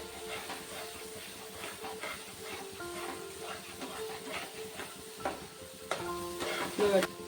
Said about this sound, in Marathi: आता मी हे मसाले टाकून घेते त्याच्यामध्ये.